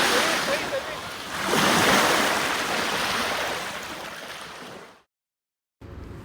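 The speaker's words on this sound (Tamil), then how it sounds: "பெருசாக க்ரௌடும் இல்லை, நாய்ஸும் இல்லை, தண்ணியோட சவுண்டு மட்டும்தான்" Waves wash onto a quiet beach with a steady rushing surf that swells and recedes, loud and close with wind buffeting the microphone, cutting briefly to silence before a softer wash returns.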